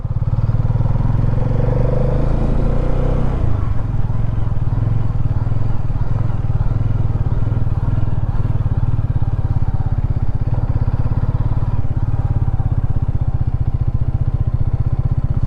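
A Hero Karizma XMR motorcycle runs steadily on a mountain road in Spiti Valley, its engine a constant close drone with clattering vibration throughout, a brief brighter rise early on, no talk.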